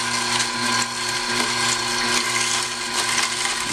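An Omega NC800 HDR fifth-generation slow juicer grinding produce, a continuous close mechanical whir and grind with steady gear rattle and no pauses.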